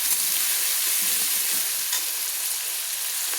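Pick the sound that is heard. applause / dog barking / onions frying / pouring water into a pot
onions frying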